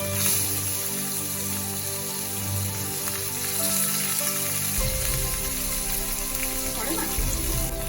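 Fish fry in hot oil, producing a steady bright sizzle with crackling spatter throughout, fairly loud and close, with a low rumble joining midway.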